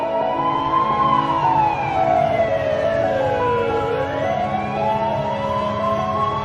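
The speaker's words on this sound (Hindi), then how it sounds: "अब तो एम्बुलेंस भी रुकी हुई है।" An ambulance siren stuck in traffic wails loudly and close by, its pitch sweeping slowly down and back up over a steady hum of vehicles.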